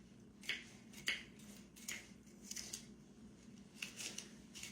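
Scissors snip something up in a kitchen while preparing baked beans, about eight crisp, fairly faint cuts at an uneven pace over a low room hum, with no talk.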